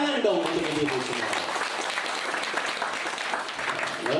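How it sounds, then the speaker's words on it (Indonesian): An audience at a comic Sundanese-language sermon on a televised Indosiar preaching show applauds the mothers present, a continuous, fairly soft patter of clapping. "tepuk tangan dong untuk ibu-ibu semua"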